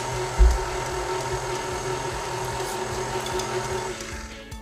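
An electric mixer creams butter and sugars for chocolate chip cookie dough, a steady motor whir with a low thump at the start that runs on evenly before easing off near the end.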